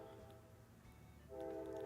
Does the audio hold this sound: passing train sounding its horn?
yes